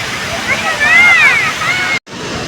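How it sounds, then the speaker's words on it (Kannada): Fast-flowing stream water rushes steadily and close by with a broad washing roar, while people talk over it and a brief dropout breaks the sound near the end. "ಎಷ್ಟು ಫಾಸ್ಟಾಗಿ ನೀರು ಬರ್ತಾ ಇದೆ ನೋಡಿ."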